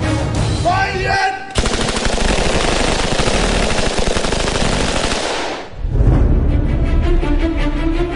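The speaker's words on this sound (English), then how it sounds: "Swiss Guards are highly skilled marksmen who've trained with SG-550 assault rifles and MP-7 submachine guns with armor-piercing rounds." SG-550 assault rifles and MP-7 submachine guns fire in a loud, continuous automatic burst lasting several seconds, followed by a heavy rumbling roar as the rapid shooting stops.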